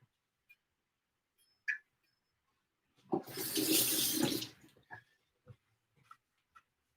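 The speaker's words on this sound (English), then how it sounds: "Let me wash my knife." Tap water runs into a kitchen sink for about two seconds while a chef's knife is rinsed after cutting basil, framed by a few small clinks and knocks before and after.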